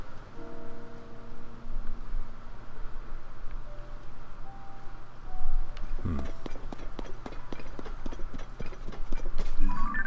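Rhythmic horse hoof clip-clops in The Legend of Zelda: Tears of the Kingdom begin midway, a steady trot over a sustained game-music drone, fairly close and moderately loud.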